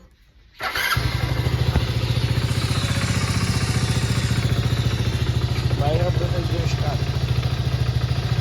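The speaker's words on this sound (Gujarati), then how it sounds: "આપણે હવે હેન્ડલ લોક ખોલી નાખીએ હોન્ડાનું કરી નાખીએ અને ચાલુ" A Honda motorcycle engine catches after a brief quiet moment and settles into a loud, steady close idle with an even rhythmic putter throughout, and someone talks over it.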